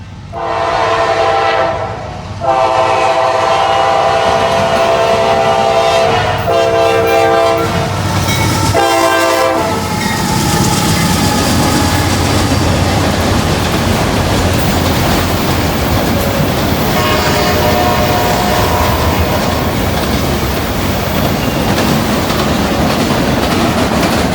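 A Norfolk Southern freight train hauling empty autoracks passes close and loud, opening with horn blasts, then a long steady rumble with clattering wheels and wagon noise.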